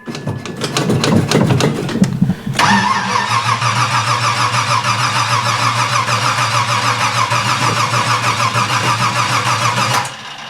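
An old vehicle engine cranks with a rapid rhythmic churn for a couple of seconds, then catches and settles into a loud, steady, close idle that runs several seconds before cutting off.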